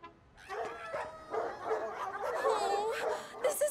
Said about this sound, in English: Any moment now, this place will be crawling with wild dogs.